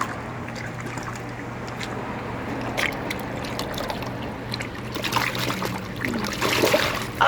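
Water splashing and sloshing around a snow leopard stingray in a tank, with trickling and intermittent splashes over a steady low hum, a few sharper splashes toward the end.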